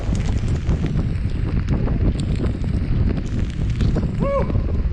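Gusty wind buffets the microphone on a river, a steady blustery roar with rushing water beneath, and a brief voice sound near the end.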